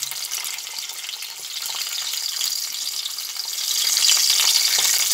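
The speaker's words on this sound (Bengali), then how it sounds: "রসুন আর শুকনো লঙ্কাটা ভাজা হচ্ছে" Garlic cloves and dried red chilies fry in hot oil with a continuous crackling sizzle. It grows slightly louder toward the end, with no voices.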